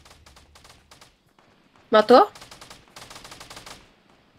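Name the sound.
gunfire in the video game Fortnite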